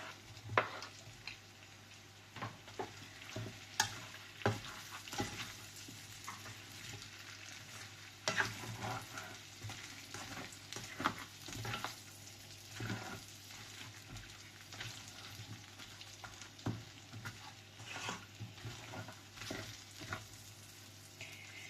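Pork and tomatoes sautéing in a pan, with a steady low sizzle and repeated scraping stir strokes of a utensil against the pan.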